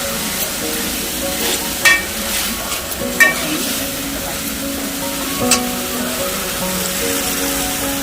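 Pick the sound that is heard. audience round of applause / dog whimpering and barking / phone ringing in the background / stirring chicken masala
stirring chicken masala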